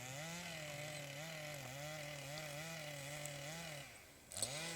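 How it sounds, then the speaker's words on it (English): A chainsaw with a 22-inch blade cuts into a standing tree at a logging event, its engine droning steadily with slight wavering pitch under load, then dipping and revving up again near the end. "using our new chainsaw, which I believe is a 22-inch blade"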